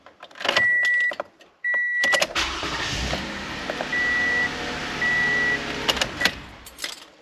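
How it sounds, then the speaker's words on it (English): A 2015 Toyota Sienna minivan starts up after a battery replacement. Its engine catches and settles into a steady idle, with electronic chimes sounding before and during the start. "This is the smoothest engine start I've had in this vehicle in the last maybe 3 months or so."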